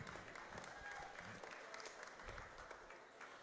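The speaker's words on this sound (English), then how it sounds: "Get a round of applause" Spectators at a 4-H fair goat show clapping for a lineup of show goats, a faint, distant spatter of applause with a loudspeaker voice and crowd noise underneath.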